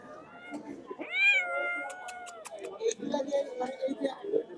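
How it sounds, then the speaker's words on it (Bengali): A Persian cat gives a clear, drawn-out meow up close at a bird market, followed by softer chatter of people talking nearby. "খুব সুন্দর সুন্দর দুইটা পার্সিয়ান বিড়াল নিয়ে আসছে"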